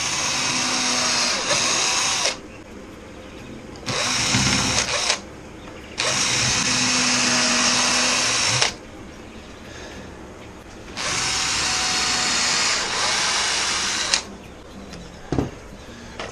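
A power drill drives screws into a quail cage tower in a dusty bird house, running in four long bursts of steady whirring with short quiet gaps between them, close and loud.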